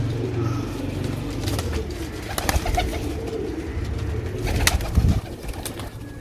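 Pigeons bred for sale, including paired birds, coo steadily at close range in a loft, with soft wing flutters and a few sharper rustles and knocks mixed in throughout.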